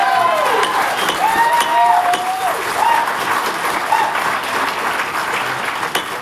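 Audience applause at a special town plan commission meeting, a steady spread of clapping from a crowd with voices and whoops mixed in, fading slightly toward the end.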